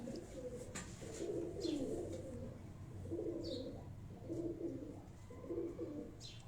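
A pigeon coos in a repeated series of low, rolling calls, several phrases in a row at close range with faint ambient noise behind.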